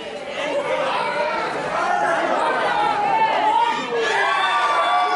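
A wrestling crowd roars and chatters close around, a loud sustained wash of mixed voices with cheers and shouts swelling and easing, including some higher children's voices.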